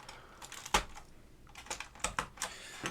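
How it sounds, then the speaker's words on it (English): Keycaps are pressed onto a vintage keyboard, producing a sparse run of sharp plastic clicks and snaps, some close and crisp, at uneven intervals with quiet gaps between them. "We're putting these keycaps on"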